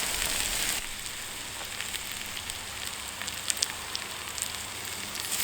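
Spiced potatoes for keema sizzle in a pan over an outdoor firepit, a steady dense crackle and hiss that runs the whole time, with a louder burst at the start and occasional sharper pops.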